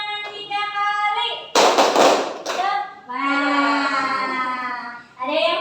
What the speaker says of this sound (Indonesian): tepuk tangan 1 kali, tepuk tangan 2 kali, tepuk tangan 3 kali